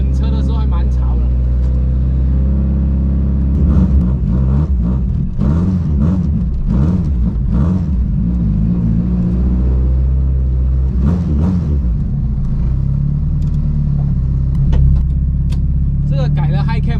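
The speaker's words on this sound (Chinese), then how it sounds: "这个改了 High Cam 它挨着的时候还会哔啵哔啵哔啵哔啵，蛮爽的这声音" Honda Civic EG6 Type R with a modified high-cam B20B 2.0-litre engine, a deep, steady rumble that swells into revs, close by and loud throughout, with people talking over it.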